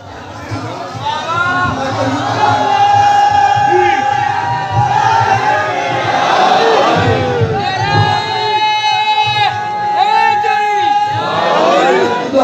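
A large crowd at a religious gathering chants slogans in loud, sustained unison, voices rising and falling in repeated waves across the whole stretch with hardly a pause.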